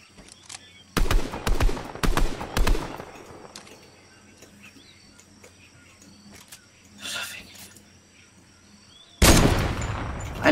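Gunfire in the video game Fortnite: loud bursts of several rapid shots early on, a fainter shot midway, and another loud burst near the end, with quieter in-game sounds between.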